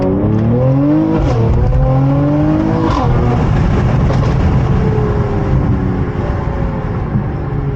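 A 2022 Mercedes-Benz E53 AMG with a catless downpipe exhausts loudly while driving, its engine rising and falling through gear changes in a continuous raspy drone, heard close from inside the car.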